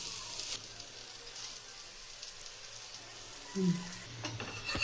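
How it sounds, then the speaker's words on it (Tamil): Oil sizzles softly around a dosa cooking on a hot griddle, a steady faint crackle with a brief scrape and clatter of a utensil toward the end. "போட்டு மேலே கொஞ்சம் எண்ணெய் ஊற்றி நல்லா முருவலாக வேக வைக்கணும்"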